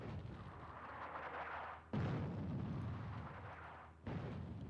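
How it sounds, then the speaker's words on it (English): Heavy artillery bombardment in the North Africa war game Attack At Dawn rolls on in sustained, rumbling booms, with two sharp new blasts landing a couple of seconds apart. "So heavy bombardment, 3 units are shelling these enemy troops."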